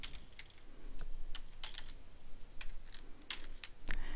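Typing on a computer keyboard to enter a course number into a library search: quick, irregular key clicks, close and fairly quiet, with no talking.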